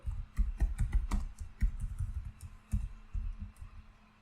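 Fast, close keystrokes on a computer keyboard rattle out while HTML code is typed, uneven clusters of soft clacks and taps running continuously for several seconds with no talking.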